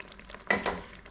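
Tamarind paste being stirred into a simmering fish curry of panga (basa) fish steaks, Kerala style: a couple of soft, scraping stirring strokes over a low bubbling sizzle, close and fairly quiet, with no talking.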